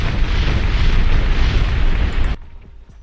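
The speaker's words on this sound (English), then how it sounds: "Big bomb." A dynamite blast lands as one loud, sustained boom with a rumbling, noisy body lasting over two seconds before cutting off abruptly into quiet.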